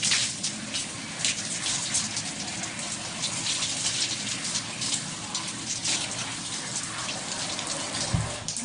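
Water runs steadily from a shower or tap as hair product is rinsed out, a continuous close splashing gush that holds at an even level throughout with no talking.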